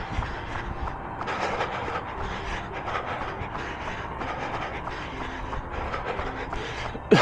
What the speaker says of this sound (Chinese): 划过的是地铁